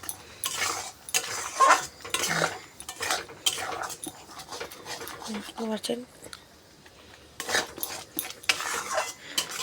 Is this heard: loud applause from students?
no